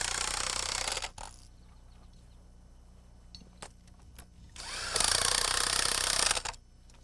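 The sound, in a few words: impact wrench tightening nuts on bolts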